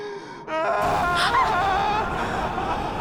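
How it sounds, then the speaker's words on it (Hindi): Someone cries and wails in a wavering, drawn-out moan that starts abruptly and carries on loudly and continuously over a dense background, close to the listener in a dramatized eerie scene. "ये तो किसी की रोने की आवाज है।"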